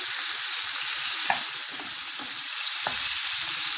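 Kokoreç sizzles and fries in a pan with a steady hiss, broken by a few soft scrapes and stirring knocks from a utensil, close and continuous.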